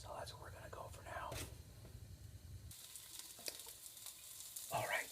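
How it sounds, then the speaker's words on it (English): Sausage patty frying in a pan for a breakfast sandwich, a soft steady sizzle with faint crackles, close and quiet, with a whisper over it. "the sausage patty is starting to sizzle"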